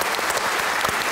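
Applause from a stand-up comedy audience: a brief, loud, dense patter of many hands clapping at once, with no voices over it.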